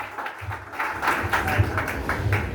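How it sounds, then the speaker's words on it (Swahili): An audience claps at a public gathering with President Ruto, a dense burst of applause that starts after a brief quiet moment and keeps going, fairly close and loud, with some voices mixed in. "Tumpigie makofi."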